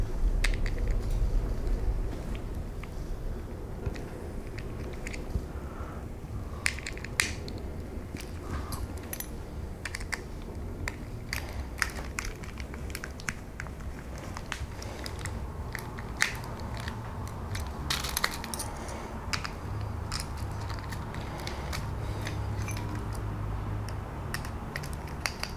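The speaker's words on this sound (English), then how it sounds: "Screw the motor in situ" Small screws driven to fix the motor into a Tamiya Mudmad 1/24 RC truck, with faint close clicks and light scraping ticks scattered over a quiet room hum.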